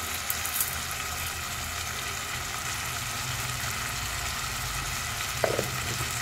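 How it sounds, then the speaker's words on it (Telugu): Tomatoes frying in a pan for a drumstick, potato and pea curry, giving a steady, soft sizzle that runs throughout with a few faint stirring scrapes and no talking. "టమాటాలు అయితే ఫ్రై అవుతున్నాయి"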